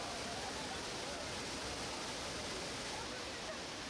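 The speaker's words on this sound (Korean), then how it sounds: "폭포의 울림 소리가 숲을 울리며 멀리 메아리친다 해서 울림폭포" A dense, unbroken roar of Ullim Falls echoing through forest in Gangwon, South Korea, heard nearby, steady and loud with no pauses.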